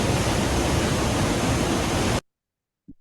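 The Franklin River's rushing water roars loud and constant around a raft for about two seconds, then cuts off abruptly to silence, followed by a short dull thump.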